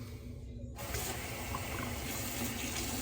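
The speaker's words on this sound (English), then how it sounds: "I'll just rinse that off." Water from a tap gushes and splashes steadily as something is rinsed off, starting abruptly after a short quiet moment and continuing at close range.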